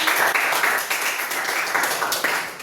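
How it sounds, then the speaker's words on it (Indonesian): Classroom applause for a student, a short burst of brisk hand clapping from a small group, fairly close and uneven in rhythm. "boleh tepuk tangan untuk kakaknya"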